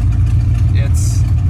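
A Ford junk truck engine rumbles loud and steady at close range during a short test drive, a low continuous drone with a brief higher hiss partway through, and someone talks over it.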